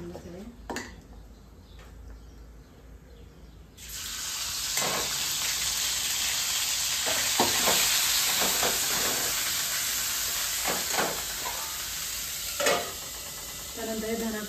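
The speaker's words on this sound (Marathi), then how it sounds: "ते वाटण या तेलामध्ये आपण घालून घेऊया" Ground masala paste hits hot oil with a sudden loud sizzle that swells into steady spitting and hissing for the rest of the stretch, broken by occasional stirring scrapes and a voice speaking over it.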